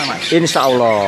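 Caged murai magpie robins and other songbirds at a bird shop give sharp chirps and whistled calls in a brief burst, mixed with a voice speaking nearby.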